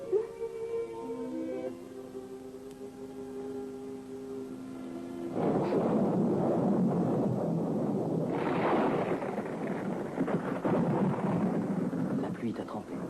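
A fierce thunderstorm with driving rain rises out of a soft tonal opening into a steady, loud roar of downpour and wind that swells further midway and holds to the end.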